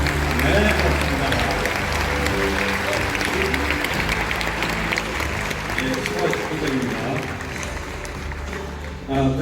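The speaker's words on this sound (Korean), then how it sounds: "여러분, 큰 박수로 맞아주십시오." A large festival-eve audience at the Bucheon International Fantastic Film Festival applauds steadily and loudly, a dense wash of clapping that holds for about nine seconds with a few faint voices underneath.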